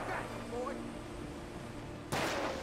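Gunfire in the video game Alan Wake, a steady rumble of shots running under talk, then a sudden loud burst near the end.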